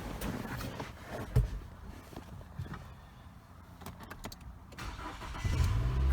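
A 2009 Nissan Altima with a hanging brake start switch cranks over in a low, muffled churn, then the engine catches and rises to a rumbling start near the end, recorded quietly with no talking.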